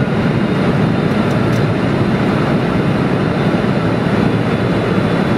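Heavy, steady roar inside the cockpit of a KLM Boeing 747-400 landing at LAX in Los Angeles, a loud continuous broadband rumble of engines and airflow with no talk.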